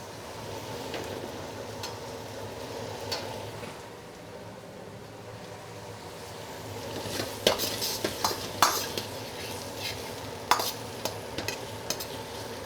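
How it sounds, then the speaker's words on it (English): Onion stir-frying in flavoured oil in a pan for Chinese seafood pan-fried noodles, a steady sizzle that builds in the second half with sharp spatula scrapes and clacks against the pan, no voices. "we are cooking the onion and we are adding flavor to the oil"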